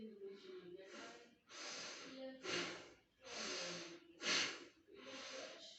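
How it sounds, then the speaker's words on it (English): Slow deep breathing exercise done in prone posture, a series of about seven long, close, airy inhalations and exhalations with brief pauses between each breath, soft and steady. "just deep breathing and enjoy"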